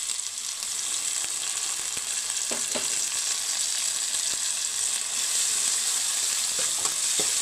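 Tomato pieces sizzle steadily in a pan with fried ginger garlic paste for tomato rice, a continuous close hiss with occasional soft stirring knocks, no voices.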